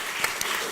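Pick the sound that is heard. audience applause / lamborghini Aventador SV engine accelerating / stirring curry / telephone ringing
audience applause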